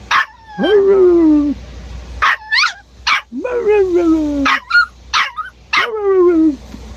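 Dogs, several puppies, yip and bark in short repeated bursts with rising and falling whining tones, loud and close, with brief pauses between outbursts.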